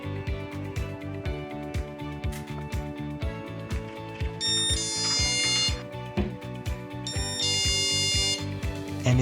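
A Topvico 312VB door handle alarm sounds alone, a loud fast-pulsing electronic beep repeating in rapid rhythm, joined partway by bursts of high shrill warbling tones.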